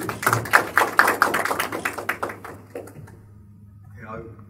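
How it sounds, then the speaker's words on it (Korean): Audience applause at an ITS transportation seminar, welcoming the final presenter to the stage: sparse, moderately loud hand claps over the first three seconds, thinning out as a low hum remains and a brief voice begins at the end. "큰 박수 부탁드리겠습니다"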